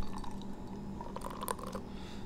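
Beer pours into tasting glasses at a beer shop, a soft liquid trickle and splash that builds into a brief burst of pouring near the end, faint and close.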